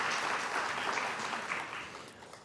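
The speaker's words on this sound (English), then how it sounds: "Please join me in giving a round of applause" An audience applauds museum donors with a brisk burst of many-handed clapping that holds steady, then begins to thin and fade toward the end.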